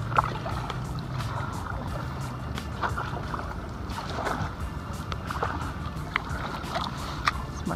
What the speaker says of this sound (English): so we're here full moon kayaking